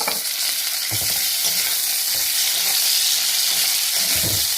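Chopped tomato added to fried onions in oil and stirred, a loud steady sizzle with spatula scrapes and stirring thumps at intervals, close and free of talk.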